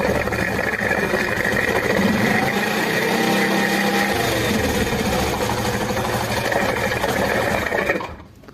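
A Honda CD 70 motorcycle engine runs close by at a steady, slightly raised throttle during an oil pump check, giving a busy mechanical chatter that holds level before cutting off abruptly near the end.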